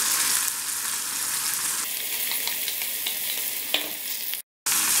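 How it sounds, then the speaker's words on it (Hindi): Tomato paste from ground tomatoes added to garlic frying in a pan for instant tomato pickle, a loud continuous sizzle that drops in pitch as the paste goes in, then settles with faint stirring before a brief cutoff. "ये लहसुन अच्छे से फ्राई हो गया है और अब हम इसमें ये टमाटरों का पेस्ट डाल देते हैं"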